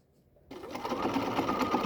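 A sewing machine stitching a fabric face mask starts up after a brief quiet moment and runs steadily at close range with a rapid, even mechanical whir, and no talking over it.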